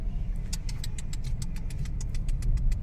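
Many cars on a busy street, with a steady low engine rumble and idling traffic running throughout and a regular series of bright, high chirps repeating above it; no talking.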